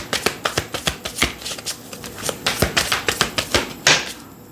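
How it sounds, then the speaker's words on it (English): Tarot oracle deck of 160 cards being shuffled and drawn, a quick run of close, crisp papery riffles and slaps about every few tenths of a second, with no voices. "I'm going to pull from my Secrets Revealed True Crime Oracle."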